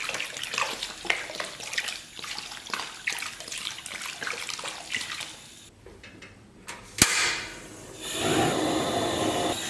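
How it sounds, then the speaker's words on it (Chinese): Water is poured into a wok holding pork belly pieces for blanching. Scraping and rustling come first, then a close, steady splash of pouring water fills the last few seconds, with no voices. "然后咱们给锅里边稍微来点水"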